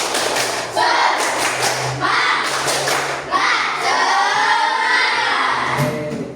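A classroom of students performs the rhythmic 'tepuk semangat' spirit chant, sharp unison claps and thumps punctuating their loud chanted voices, close and continuous throughout.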